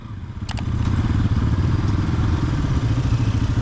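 A motorcycle engine runs steadily with a low rumbling drone, close and loud, with a couple of brief clicks near the start, riding toward Jomsom in Mustang, Nepal.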